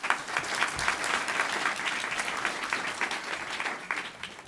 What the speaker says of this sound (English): So you all should give yourselves a real round of applause.